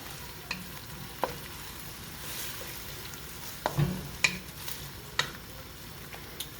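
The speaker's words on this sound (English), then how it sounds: "we're going to let that stir fry up a little bit" Vegetables for Szechuan chicken stir-fry in a hot pan with a low, steady sizzle, broken by occasional scrapes and taps of a utensil against the pan, close and quiet with no voices.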